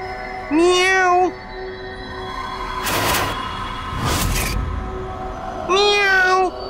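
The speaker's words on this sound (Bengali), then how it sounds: "এই আওয়াজ, এর মানে এই ঘরে কোনো বেড়াল ঢুকেছে।" A cat that has slipped into a room gives two loud, drawn-out meows a few seconds apart, with two short bursts of rushing noise between them.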